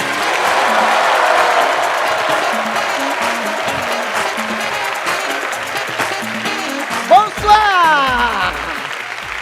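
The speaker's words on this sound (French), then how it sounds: "Levez-vous et faites un tonnerre d'applaudissements pour Marcus." A comedy-show audience stands and gives dense, loud applause that fills the room, tapering off as a man greets the crowd at the end.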